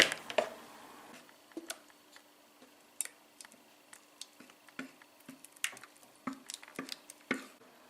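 Thick tomato sauce for ratatouille poured and scraped onto a baking tray, giving close, soft wet plops and irregular clicks of a utensil against the tray, with no talking.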